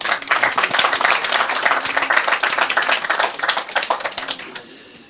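Dense, steady clapping from an audience welcoming Colonel Philippe Outier, head of the RSMA, at the inauguration of a football pitch's new lighting system, holding loud and even before easing off near the end.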